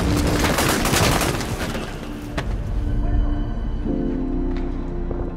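A loud, rumbling blast of noise with crackling bursts, sustained and dense, then fading into a lower roar.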